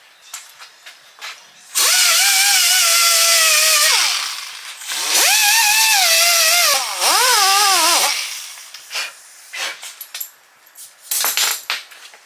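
A small rotary tool whines loudly in close bursts while scrubbing an old gasket off aluminum, its pitch sagging under load and rising again, with quieter scraping and handling noises between bursts.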